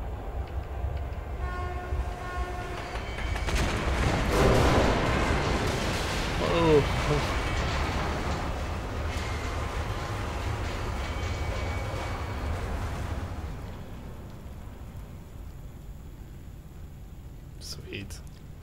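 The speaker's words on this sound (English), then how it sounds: "Train's coming." In the video game Metro Last Light Redux, a train rumbles past with a horn sounding early on, the rolling roar swelling and then fading, with a faint voice and a brief exclamation over it.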